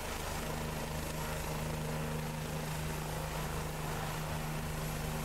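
Steady helicopter engine and rotor drone from the X-Plane flight simulator, a continuous loud hum with strong low tonal bands and no voices, holding even for the whole stretch.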